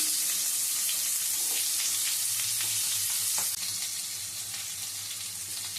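Potatoes go into hot oil tempered with two dried red chilies, setting off a loud, dense, hissing sizzle that eases slightly partway through and settles into a steadier fry. No voices.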